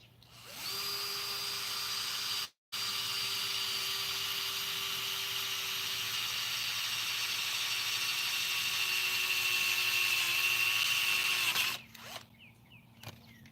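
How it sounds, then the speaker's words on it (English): A power drill bores a hole in a Stihl PP800 telescoping pole saw, a loud continuous high whine that stops briefly, resumes for about nine seconds with a slight drop in pitch, then cuts off. "So I drilled my own hole right before where it's messed up."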